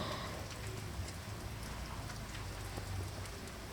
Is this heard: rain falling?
yes